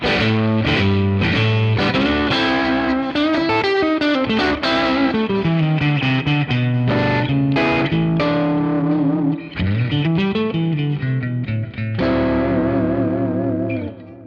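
A solo electric guitar plays bluesy phrases in a clean tone with a touch of overdrive, the notes ringing out with delay and reverb.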